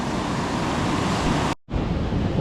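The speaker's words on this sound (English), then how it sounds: "The waves could be a bit big, it's quite steep." Surf from waves breaking on a steep beach, a steady loud broadband wash that runs almost the whole time and briefly cuts out near the end, with wind on the microphone and no voices.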